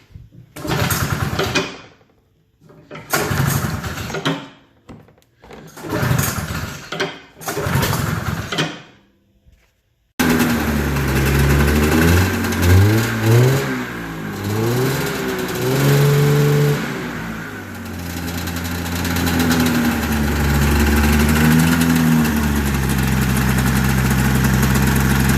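A 1980 Yamaha SRX 440 motorcycle engine cranks in several short bursts with pauses, then catches and runs, revving up and down before settling into a loud, steady, close idle.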